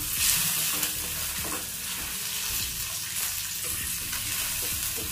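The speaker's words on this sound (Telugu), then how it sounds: "ఇవి రెండు కూడా లో ఫ్లేమ్ మీద పెట్టి వేయించుకోవాలి." Dry red chillies frying in a pan over a low flame, a steady soft sizzle with occasional stirring scrapes running close and continuous throughout.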